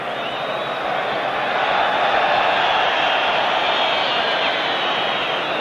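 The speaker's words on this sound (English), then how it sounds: "you can certainly detect some discontent in this vast crowd from the Napoli fans" Vast crowd of Napoli fans filling a football stadium in a 1986-87 Serie A match against Inter Milan, a dense, steady roar of massed voices with a discontented edge, loud and sustained throughout.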